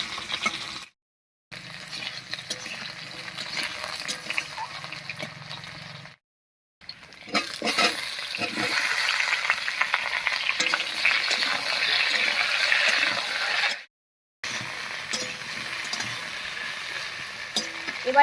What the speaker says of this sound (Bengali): আলুটা একটু রান্না করে নেব